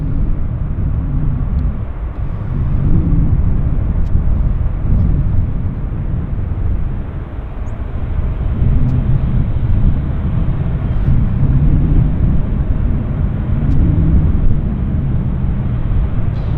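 Singapore Airlines airliner taxiing into its gate at Vancouver International Airport, a loud continuous low engine rumble that swells and eases in slow waves, with no voices.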